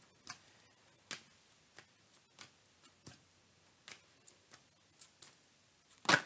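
Soft, irregular flicks and snaps of cards being handled, spaced out at a loose uneven rhythm, ending in a quick riffling burst.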